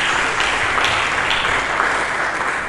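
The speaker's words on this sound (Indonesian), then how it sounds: "Mari kita berikan tepuk tangan bagi Yesus" Congregation in an Indonesian church service gives a burst of applause, a dense wash of many hands clapping together, loud and sustained throughout without voices over it.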